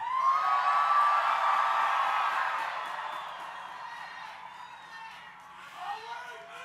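A rally crowd at the National March for Life cheering and whooping loudly, the roar fading gradually over several seconds with a brief swell near the end.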